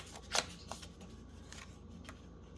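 A strip of paper is torn by hand for journal ephemera: one quick, close ripping burst early, then a few faint papery rustles and small handling sounds in a quiet room.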